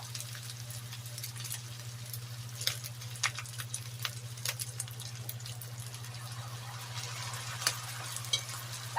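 Ground pork giniling with potato and carrots sautéing in a pan after soy sauce goes in: a soft, steady sizzle with light crackles and occasional stirring clicks over a low constant hum.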